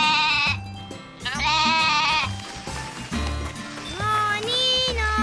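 A cartoon goat bleats in several drawn-out, wavering cries over music and background sounds, close and clear.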